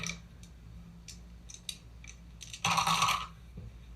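Small orange dice clatter in a plastic Halloween cup, a few scattered light ticks followed by a brief, brighter burst of rattling, close and fairly quiet.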